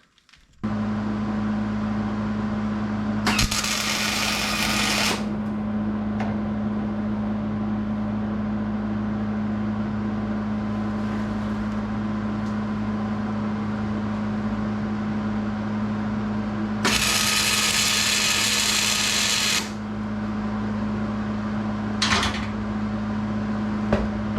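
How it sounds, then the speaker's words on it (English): A custom 4-link suspension bracket is tack welded in a fabrication shop. Two bursts of harsh, crackling arc last a couple of seconds each, with a few shorter zaps, over a steady electrical hum. "we are going to throw our gloves on and get this tack welded"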